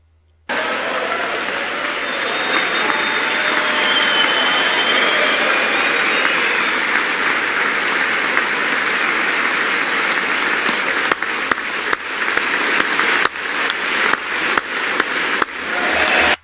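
Standing Republican lawmakers applaud and cheer in a legislative chamber, a dense, steady roar of clapping that runs throughout, growing more uneven with sharper individual claps toward the end; no speech.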